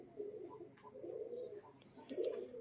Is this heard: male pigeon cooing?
yes